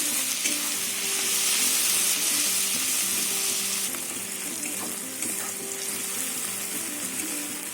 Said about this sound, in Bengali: চিংড়া পেঁয়াজ রসুন একসাথে ভালো করে ভাজা হয়ে গেছে